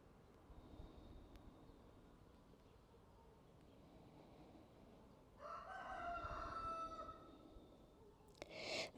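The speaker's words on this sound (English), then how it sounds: "The chickens are joining us this morning." A rooster crows in the morning, faint at first, then a louder drawn-out cock-a-doodle-doo rises from somewhat far off over quiet background hiss, with a brief clatter at the end.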